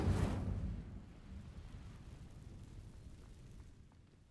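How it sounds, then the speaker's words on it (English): An Incendio fire spell ignites dry vines in Hogwarts Legacy, a sudden whooshing burst that quickly fades into a low, soft crackling rumble. "These dry vines are one spark away from becoming kindling. Incendio!"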